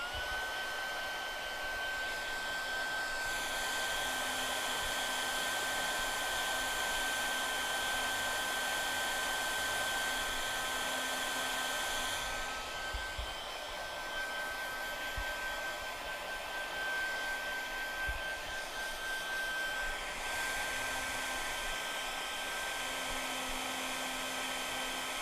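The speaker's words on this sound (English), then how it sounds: "I'm just hair drying it to speed up the process of the drying." A hair dryer runs steadily to dry fresh tattoo artwork in a podcast studio, a constant whirring blow with a high whine that holds on for the whole stretch with only slight dips in level.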